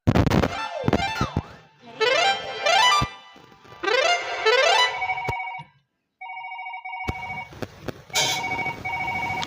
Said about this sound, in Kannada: ಅಲ್ಲಿ ಶಿವ್ಯಾಗ ಫೋನ್ ಹಚ್ತಾನ ನೋಡ.